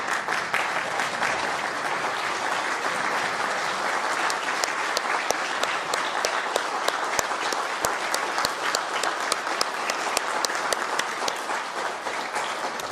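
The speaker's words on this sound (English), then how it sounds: "I think a standing ovation for their heroism is in order to start off the ceremony." An audience at a junior high honor society induction ceremony gives 8th graders a standing ovation, with dense, sustained clapping that stays loud and even throughout, no speech on top.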